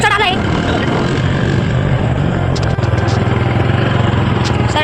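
A vehicle engine strains to climb a slope, a loud, steady droning roar that labours throughout with only a slight dip partway, and a voice is briefly heard over it.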